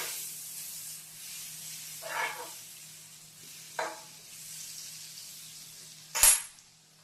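A small piece of butter melts on a hot griddle over a low flame, a faint steady hiss swelling into a few soft sizzling bursts and one sharper clatter near the end.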